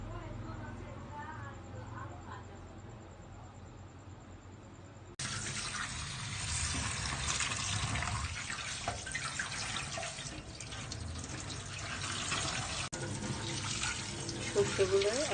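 Black and white mustard seeds are washed under running tap water in a kitchen. The water streams and splashes steadily into a bowl, getting louder partway through, while someone speaks over it.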